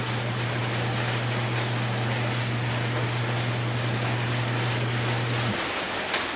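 A Samsung top-loading automatic washing machine under repair for a drain fault runs at high speed, giving a loud, steady broadband rushing whir with a low hum that cuts out near the end, no talk.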